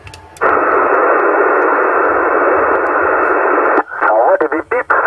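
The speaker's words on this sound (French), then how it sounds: "ça envoie des bip bip, mais avec un bruit bas bizarre." A loud, steady burst of radio static hisses for several seconds, then cuts out into short, broken bursts of a garbled voice.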